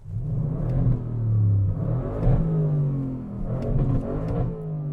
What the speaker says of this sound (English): You can rev the car now that it's tuned.